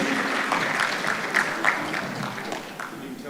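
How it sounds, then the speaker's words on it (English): Audience applause at a conference before a tea break, a sustained even wash of clapping with a few louder bursts and some voices underneath. "Another round of applause for all of them"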